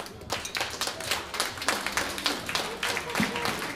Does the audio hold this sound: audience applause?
yes